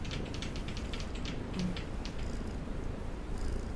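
A pet cat purrs steadily and close up, a continuous low rumbling throb that carries on without a break for a few seconds, with no voices over it.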